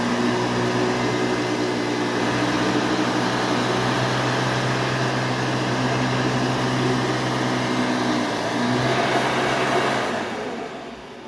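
A Hoover Elite 350 direct-air vacuum cleaner with ball bearings runs steadily at close range, a loud continuous motor whine and airflow roar with stable tones, easing off and winding down near the end.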